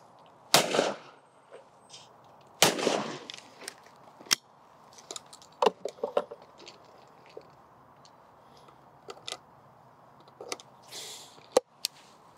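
An old side-by-side shotgun fired outdoors at clay targets: a few loud, sharp blasts with quiet gaps between them and some smaller clicks and knocks.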